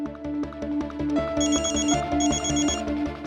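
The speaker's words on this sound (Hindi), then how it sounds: "कौन फोन कर रहा है?" A telephone rings late at night, a continuous warbling electronic ringtone, steady and close, with no voices.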